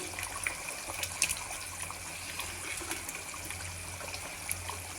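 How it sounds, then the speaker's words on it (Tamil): Tamil fish curry (meen kulambu) bubbles in a pot as fish goes in, a soft, continuous simmering and trickling with faint scattered pops, quiet and without talk. "இப்போ குழம்பு கொதிச்சிருச்சு. மீன் போடலாம்."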